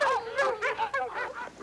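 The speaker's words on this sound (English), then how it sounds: "What's the matter with them fool dogs?" Several dogs bark and yip in quick, overlapping bursts at close range, loud and agitated, with no talk over them.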